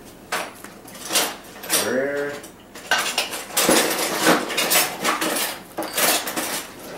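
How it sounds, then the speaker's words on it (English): Chopped basil and garlic tossed into a pan while cooking scallop bruschetta, giving a few clattering metal and pan knocks with brief scraping, close and fairly loud, with some voice sounds between them. "I'm going to go ahead and throw that right in the pan."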